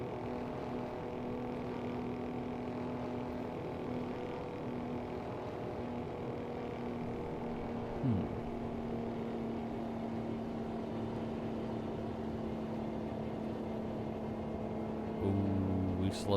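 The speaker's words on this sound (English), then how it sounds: "This truck does sound like a wet fart the entire time you're driving it." Truck engine droning steadily while driving in the American Truck Simulator video game, a low sustained hum at modest level with a brief shift near the end and no talk.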